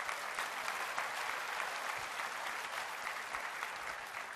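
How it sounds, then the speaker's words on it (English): Large audience at the 2015 Apple Worldwide Developers Conference keynote applauding, a dense, even wash of clapping that holds steady throughout without any voices over it. "So give yourself a round of applause, please"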